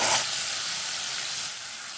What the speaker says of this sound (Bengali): এই মশলাটা আস্তে আস্তে দিয়ে দেব।